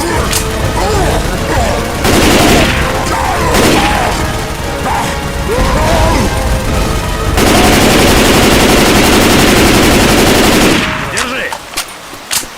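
Sustained machine gun fire rattles loud and close in the zombie shooter Left 4 Dead 2, with long continuous bursts, crashes and booms, and character voices calling out underneath.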